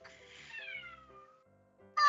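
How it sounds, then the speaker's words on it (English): A cat shut in a room gives a thin, drawn-out plaintive meow that slides downward, muffled and moderately close, followed by quiet and the start of another cry at the end. "This is such a pathetic little meow, that one."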